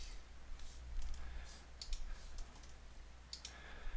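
Password typed on a computer keyboard, a few light, quick key clicks in short bursts, fairly faint against steady low room hum.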